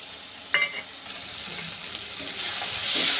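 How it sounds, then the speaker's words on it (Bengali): Spice masala sautéing in a pan gives a steady close sizzle, with one sharp utensil clink early on and the frying hiss slowly building louder toward the end. "মশলাটাও দিয়ে দিচ্ছি, কষিয়ে নেব"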